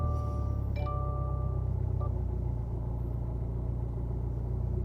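A 2015 Subaru STI making about 400 wheel horsepower, fitted with a twin-plate clutch, is being driven. It gives a steady, fairly quiet low rumble with faint mechanical whining, and no voices are heard.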